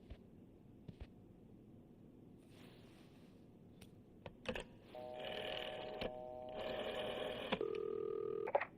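Phone dialing in the video game This Bed We Made: faint clicks and handling, then a run of clear keypad tones followed by a steady ringing tone, close and alone.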